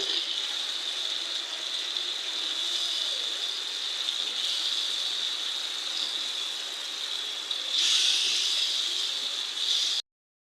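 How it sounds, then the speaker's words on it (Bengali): Vegetables hit a pan of fried spice paste and oil, giving a steady, even sizzle that swells louder briefly near the end before cutting off abruptly. "মশলা থেকে তেল বের হয়ে গেছে এখন আমি সবজিগুলা দিয়ে দিব"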